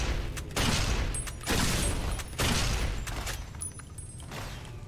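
A holorifle fires in Fallout: New Vegas, letting off three loud, evenly spaced energy blasts. Each one has a sharp bright onset and a sustained crackling tail, and high electronic whines sound between the shots.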